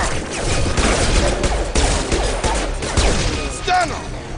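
Gunfire rattles in Mass Effect 2 Legendary Edition, a loud, dense volley of rapid shots filling the scene, with game voices mixed in.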